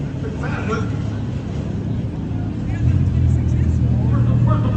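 Demolition derby cars at an American Legion county fair rumble low and steady, the engine drone swelling partway through, under a continuous announcer's voice.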